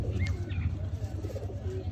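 A Sialkoti pigeon coos in low, pulsing, rhythmic murmurs close by, continuous throughout, with faint chirps from other birds above it.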